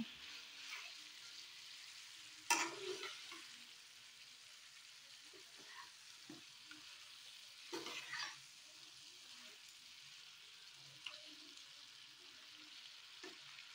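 Fish and vegetables in a pan, stirred as a fish head cooks: faint, sparse scrapes and a few stronger stirs over a quiet, low sizzle, heard from close by without voices.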